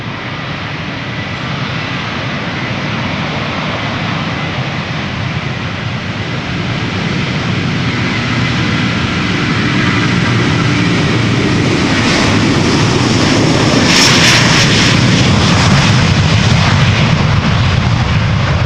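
Loud, close jet roar of a Delta Airlines airliner taking off at Amsterdam Schiphol Airport, a steady broadband rumble that swells and grows harsher toward the end, with no talking.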